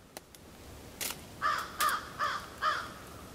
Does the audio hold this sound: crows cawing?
yes